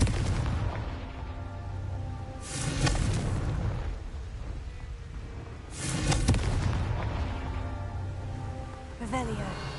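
Confringo fire-blast spell going off in Hogwarts Legacy, with two heavy booming bursts a few seconds apart over a low rumbling game soundscape, plus a sharper crackle near the end.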